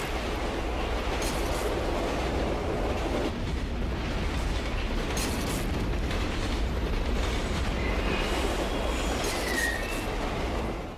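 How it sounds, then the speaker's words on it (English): A subway train speeds along in a video game, a loud, dense, continuous rushing roar with rattling wheels and occasional high brake squeals and sparks over the full stretch. "the train speeding faster than your average video game train, all the effects happening with the brakes and the sparks and the sound design"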